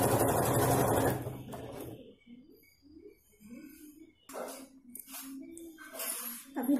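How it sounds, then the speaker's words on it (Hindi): A sewing machine stitching a baby chaniya choli opens with a loud, steady close whir for about two seconds, then gives way to quieter handling and intermittent short mechanical bursts. "अभी देखिए इसको बिठाते हुए और एक सिलाई देना है"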